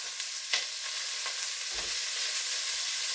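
Onions sizzling in a pot for whiskey pot roast, a continuous soft hiss of frying with a couple of light knocks and stirring touches, no talking over it.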